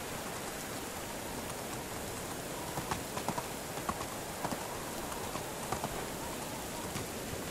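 Horse hooves clopping at a steady walk in the medieval survival game Medieval Dynasty, an even series of light knocks over a soft, hissing, rain-like background, moderately near and without speech.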